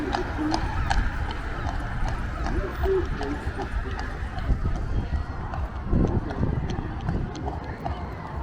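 Horse hooves clip-clop on the paved seafront promenade at Blackpool as a horse-drawn carriage passes, a rhythmic clatter under wind and crowd noise, with people talking nearby.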